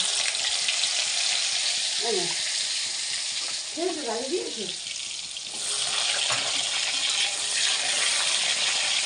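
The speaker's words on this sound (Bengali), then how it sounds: "আলু ভাজা হয়ে গেছে, এবার গাজরটা ভাজবো।" Carrot pieces fry in a pan with a loud, constant close-up sizzle that runs the whole time, while a voice speaks briefly in the background.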